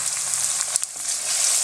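Onions and green chili for lamb keema sizzle hot in oil over medium heat, a dense bright frying hiss with a brief stirring scrape in the middle.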